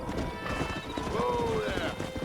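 Horses in Red Dead Redemption: steady clip-clop of hooves with a short whinny rising over it, close and moderately loud, with a voice speaking underneath.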